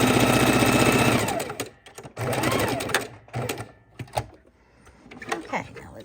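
Sewing machine stitching a raw edge appliqué Halloween pumpkin hums rapidly for just over a second, then gives short intermittent bursts and clicks as the fabric is pivoted, with pauses between.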